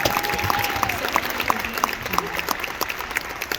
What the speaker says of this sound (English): how about another round of applause for Young Hui Koo?